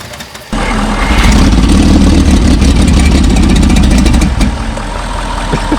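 A 1960 Bombi tank's engine catches after a short quiet lead-in, then runs loud and steady with a rough, pulsing idle, dipping slightly toward the end.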